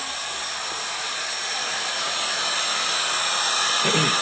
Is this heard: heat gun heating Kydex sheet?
yes